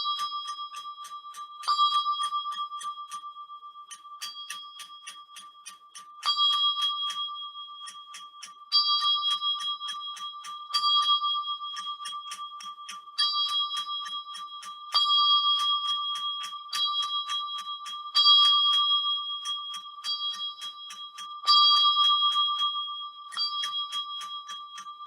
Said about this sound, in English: So I've just rung plain hunt for you on the treble bell